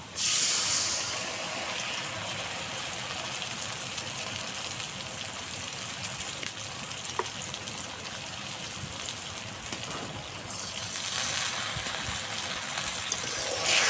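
A spice paste of cumin paste, onion-garlic paste, turmeric and chilli powder hits a hot pan for an egg bhuna, setting off a broad, steady hissing sizzle that swells slightly at the start and end.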